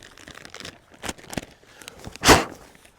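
A zip-top plastic water bag opened close by, with a few soft crinkles and rustles building to one sharp, loud crackling pull near the end.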